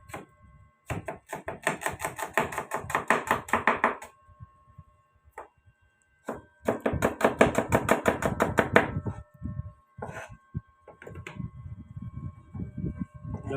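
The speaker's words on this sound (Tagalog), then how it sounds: "Pitpitin natin para yung kanyang mga katas ay lalabas." Ginger crushed and chopped on a cutting board for cooking, rapid rhythmic knife strikes in two long bursts, close and crisp, followed by slower, heavier thuds.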